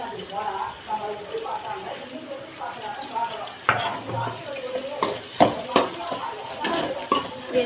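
Garlic, cumin and fennel seeds sautéing in a pan for fish curry, with steady frying sizzle and scraping stir strokes, plus a few louder knocks of the spoon against the pan, heard close up.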